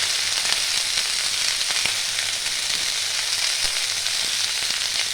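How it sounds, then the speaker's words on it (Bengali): Spiced bottle gourd greens with stems, salt, turmeric and chillies frying in a pan, giving a continuous, fairly even sizzle with occasional soft scrapes and clicks of stirring. "ভালো করে আবার নাড়িয়ে চাড়িয়ে নেব"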